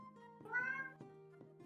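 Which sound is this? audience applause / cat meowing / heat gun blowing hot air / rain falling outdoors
cat meowing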